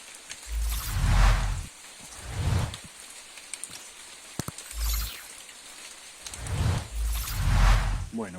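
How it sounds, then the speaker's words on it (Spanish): Rain falls outside a lava tunnel in the Galápagos Islands, Ecuador, a steady soft hiss heard from inside, with heavier swells and low thumps of drops coming through at intervals. "se escucha solamente la lluvia por fuera y algunas gotitas que filtran en el túnel"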